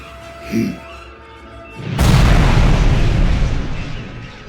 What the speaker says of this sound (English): Kovac ship has been destroyed, sir.